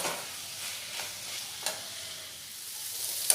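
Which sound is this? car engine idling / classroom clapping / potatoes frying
potatoes frying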